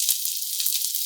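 Garlic for vegetable fried rice sizzles in hot oil as a steady, close, bright hiss, with a few faint crackles underneath.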